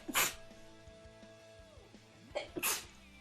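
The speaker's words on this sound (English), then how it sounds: "Oh, I'm gonna sneeze." A person sneezes twice, each a sharp burst, the second preceded by a short intake, close and quiet overall with a faint tonal hum between.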